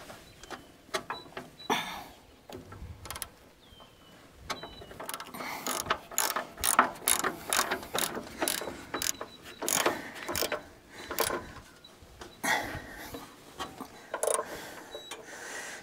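A ratchet tensioner on a Woodland Mills HM126 sawmill clicks as it is tightened, in quick bursts of sharp metallic ratcheting with short pauses between strokes, close by and moderately loud.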